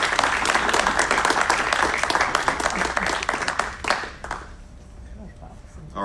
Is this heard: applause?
yes